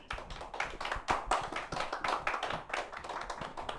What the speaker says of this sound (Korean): 교수님 큰 박수로 맞이하겠습니다.